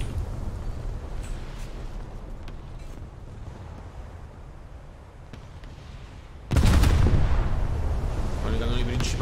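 The main guns of the American cruiser Alaska fire in War Thunder. A low rumble builds for several seconds, then a sudden loud, booming salvo erupts and keeps roaring near and heavy.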